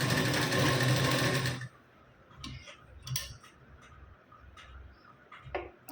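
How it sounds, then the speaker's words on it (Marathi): A sewing machine runs a fast, loud burst of stitching along the neckline of a lehenga blouse, then stops, leaving quiet handling clicks and faint ticks. "आता पुन्हा गळ्यावर मी अशी टीप देऊन घेतली."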